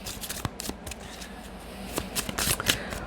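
A deck of Angel Medicine Oracle cards is shuffled close by, giving a steady papery riffle broken by sharper flicks and slaps. No voices are heard.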